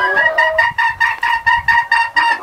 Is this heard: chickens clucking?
yes